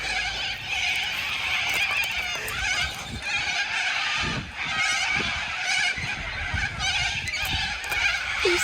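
A flock of geese honks loudly and continuously, overlapping calls filling the air nearby with no talking.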